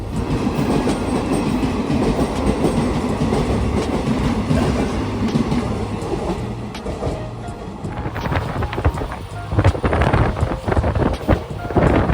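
A train rumbles past close by with continuous heavy rolling noise and rhythmic clickety-clack of wheels, wind buffeting the microphone.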